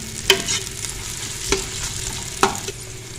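Onions softening in a pan sizzle gently under a spoon, with three distinct scraping stirs at roughly one-second intervals over the steady frying hiss, close and without talk.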